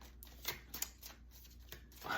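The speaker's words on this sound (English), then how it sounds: "as I'm telling this, I'm going to just be shuffling" Tarot cards are shuffled quietly by hand, a soft series of rapid riffling and sliding flicks repeating irregularly, faint and close, with no talking over them.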